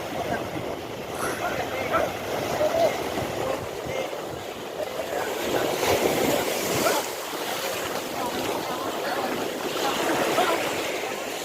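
Strong wind roars steadily by the sea on the Sri Lankan coast, with waves surging and buffeting gusts on the microphone throughout.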